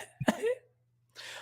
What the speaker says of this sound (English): that's a very effeminate cough you have.